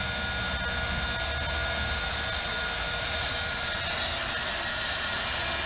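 A heat gun blows hot air over a red cable during go-kart steering wheel wiring work, a loud, even rushing roar with a faint high whine that holds steady from start to finish.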